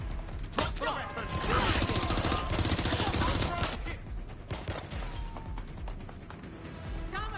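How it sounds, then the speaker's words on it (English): Rapid bursts of gunfire in the video game Watch Dogs Legion, dense and continuous through the middle with scattered shots and mechanical clatter toward the end, with game sounds mixed in. "I'm ready to fire."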